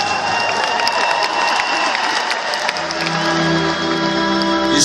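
Crowd clapping and cheering at a rock concert in the St. Petersburg SKK arena, a broad, sustained wash of applause with scattered shouts, as sustained musical tones emerge underneath toward the end.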